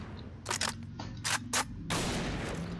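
Ultimax 100-round machine gun fired in the shooter game Point Blank: sharp bursts of rapid automatic fire in short clusters, then a longer sustained burst, loud and close, with no talking.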